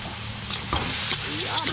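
Shrimp and crabs fry in a sweet chilli garlic sauce while being stirred, a steady loud sizzle with scraping stir strokes and brief bubbling, and a voice murmurs faintly underneath.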